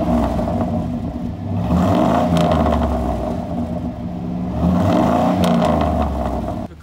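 A lifted monster truck drives with a steady, close engine rumble and whir that swells and eases slightly but never stops, with faint chatter from parts underneath.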